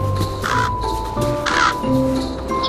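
Several crows caw in a Berenstain Bears Christmas tree app, harsh repeated calls in short bursts over a steady electronic music bed.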